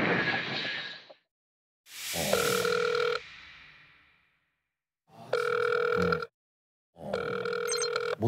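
A telephone rings out in repeated bursts with silent gaps between them, loud and close, as a call is placed to a couple from a guesthouse on Udo island, Jeju.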